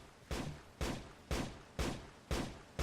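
Immersive Engineering turret firing in Minecraft, six evenly spaced sharp shots about half a second apart, each with a short decaying tail, moderately loud and without talk.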